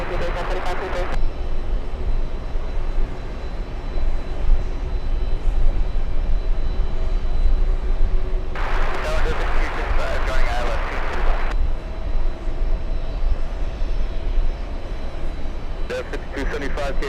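Aircraft engines roar steadily at JFK airport, a broad continuous rumble that swells louder midway as a plane passes closer, then settles back, with faint talk mixed underneath.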